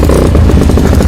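A motorcycle engine starting up, a loud rough rumbling crank and catch heard close by in a short burst.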